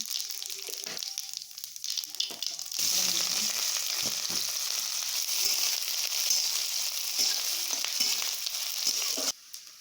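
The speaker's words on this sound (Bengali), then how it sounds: "জিরা ফোড়ন দিলাম" Steady crackling sizzle of cumin seeds frying in hot oil, rising sharply after a quieter start with a few scrapes, then cutting off abruptly.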